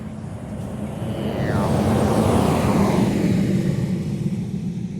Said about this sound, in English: Look, here comes a truck.